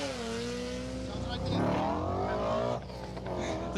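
A rally car engine revs hard at the 2025 Nicky Grist Stages event among BMWs, rising and falling harmonic tones close by, with people talking over it.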